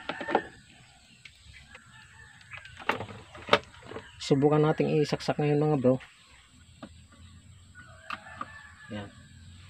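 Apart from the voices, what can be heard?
rooster crowing and clucking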